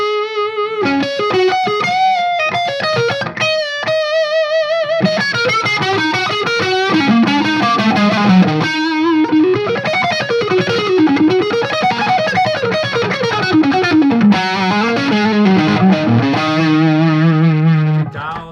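An electric guitar runs through an inexpensive distortion pedal set for a Jubilee-style amp tone, playing loud, saturated riffs and sliding lead lines that ring continuously for the whole stretch.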